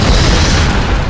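A deep boom from an explosion in a Lara Croft video game, a single heavy blast with rumbling low end that fills the whole short moment without fading.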